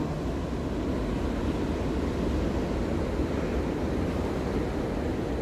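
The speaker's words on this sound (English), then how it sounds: "Look at those waves." Large ocean waves breaking along the Sunshine Coast shore, a steady broadband roar of surf mixed with wind buffeting the microphone, continuous and fairly loud with no pauses throughout.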